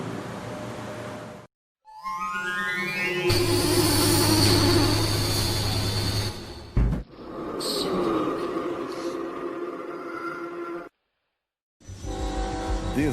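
A freight train crossing Mexico rumbles and grinds loudly with squealing wheels and rising tonal screeches, the steady roar broken by a few sudden cuts of silence.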